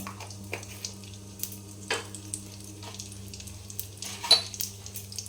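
Asafoetida tempering sizzling in hot mustard oil for Bengali cholar ghugni, a steady low frying hiss with a few sharp crackles and spoon taps, close by.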